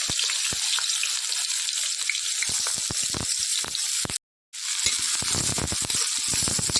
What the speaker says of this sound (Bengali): হালকা ভাজা হবে পেঁয়াজগুলো